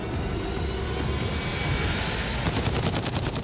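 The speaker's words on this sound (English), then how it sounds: "Right up next to his ear, automatic fire" Automatic gunfire right beside a hostage's ear during the Captain Phillips hijacking: a loud, dense roar of shots that ends in a fast, evenly spaced burst.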